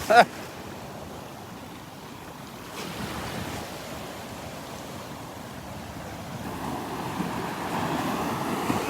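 Surf rolling onto a beach in Naples, Florida, a continuous soft wash of waves with steady wind rumbling across the microphone, one sharp knock at the start.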